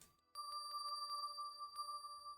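A bright bell-like chime rings out as light is collected in Tower Lords, a sustained shimmering tone with several quick tinkling pulses layered over it after a quiet start.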